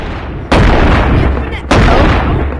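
Two loud, close blasts from a shotgun with infinite ammo in the VR game Animal Company, the second following about a second after the first, each a sharp broadband boom that tails off slowly.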